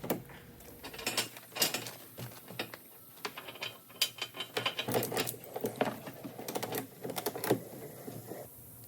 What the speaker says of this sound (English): These are 8-foot long endless ratchet straps, which just take some of the bulk out of the normal ratchet straps